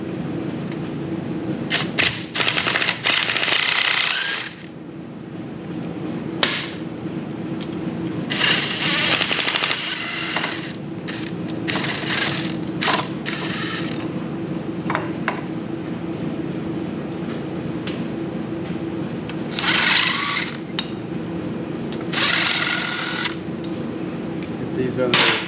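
Impact wrench working on a Harley-Davidson Evolution Sportster engine during a top-end teardown, loud repeated rattling bursts of a few seconds each, close by, separated by workshop noise.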